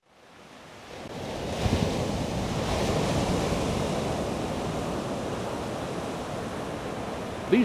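Ocean surf rolls onto a beach in a steady, broad wash of breaking waves with wind noise on the microphone, swelling up from quiet and then holding at a constant roar with no one talking.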